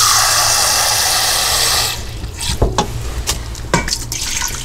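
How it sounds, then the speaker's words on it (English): Two cups of water poured into a pressure cooker: a loud, steady close gush lasting about two seconds, then stopping, followed by a few light clinks and knocks of metal. "I'm just gonna add 2 cups of water."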